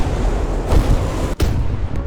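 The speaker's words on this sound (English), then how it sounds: "use artillery to start shooting as soon as possible" Artillery fire in a war strategy video game, loud rolling booms layered over a steady battle rumble, with one sharp, close blast standing out near the middle.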